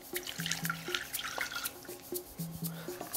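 Water running from a tap into a pot for cooking couscous, a splashing, trickling stream with small drips, close and fairly quiet.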